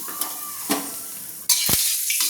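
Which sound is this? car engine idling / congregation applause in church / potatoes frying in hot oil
potatoes frying in hot oil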